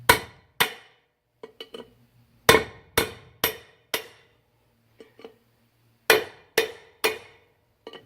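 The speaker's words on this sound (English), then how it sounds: "so you can get your punch in there, a big hammer, pound them babies out" Wheel studs are driven out of the front rotor hub of an older 4x4 with a punch and a big hammer, about a dozen sharp metallic blows in uneven bursts, each ringing briefly before the next strike.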